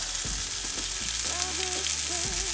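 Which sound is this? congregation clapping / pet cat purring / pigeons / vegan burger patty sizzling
vegan burger patty sizzling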